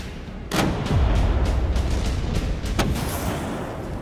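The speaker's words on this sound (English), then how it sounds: "Safely out of range, British ships pound the fort with fire." British ships' artillery shells a fort, with a heavy boom followed by a rolling rumble and a second sharp blast, loud and continuous under a dense roar.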